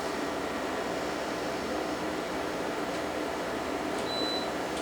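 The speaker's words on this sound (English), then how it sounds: "So right now the dehumidifier is actually sucking the moisture that we could not see on the air" Dehumidifier running in a bathroom: a steady, broad whooshing hum with no change in level, close and constant, with no talking.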